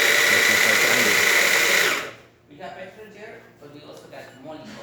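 A Baratza Sette 270wi coffee grinder, back from repair, grinds coffee with a loud, steady high-pitched whine for about two seconds, then stops abruptly, leaving a person talking nearby.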